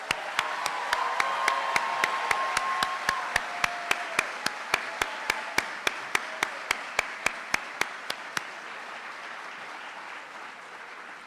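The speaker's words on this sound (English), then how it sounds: "Let's give them a round of applause." Audience applause at a middle school moving-up ceremony for the 2025 eighth grade class fills the room: steady, dense clapping that holds strong for about eight seconds and then thins out and fades.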